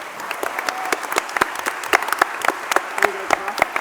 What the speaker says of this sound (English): Big final round of applause.